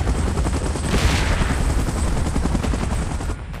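Helicopter rotor from the PUBG Mobile game during an evacuation sequence, a steady dense chopping roar mixed with gunfire-like bursts, loud and continuous for the whole stretch with no talk.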